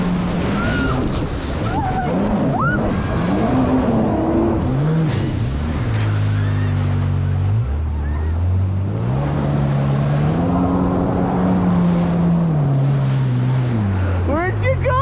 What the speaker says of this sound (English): this is just my favorite jet ski of all time